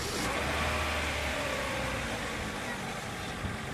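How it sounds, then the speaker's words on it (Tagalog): A first-generation Honda CR-V engine running after being started, a steady broadband mechanical hum with a low rumble that holds at an even level, with no clear start burst. "Tapos, ipa-start ko yung makina."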